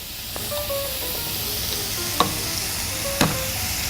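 Garlic sizzles in a pan with browning mince, a steady frying hiss with soft stirring scrapes and two sharper clatters near the end.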